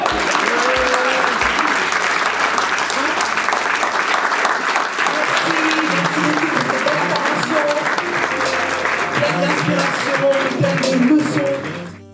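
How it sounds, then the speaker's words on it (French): A packed conference hall audience bursts into sustained, loud applause after four entrepreneurs' pitches on investing in Africa, dense clapping running steadily for the whole stretch with faint voices mixed in. "Les pitchs des 4 entrepreneurs sont suivis par une salve d'applaudissements."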